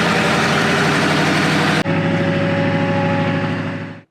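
Engine of a 50-year-old crane truck abandoned for 10 years, cranking and running with a loud, rough, steady low drone; a brief dip partway, then the same running note continues and fades at the end.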